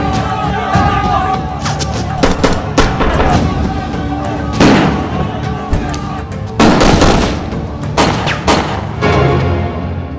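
Gunfire from a film shootout scene sounds as repeated sharp, loud bangs in irregular bursts, with music and other scene sounds running underneath.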